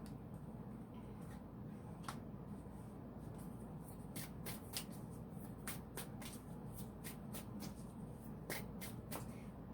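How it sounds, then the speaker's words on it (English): Tarot cards shuffled continuously: a soft, close papery rustle and rubbing, broken by crisp card snaps and taps at irregular intervals, with no talking. "before I keep on shuffling"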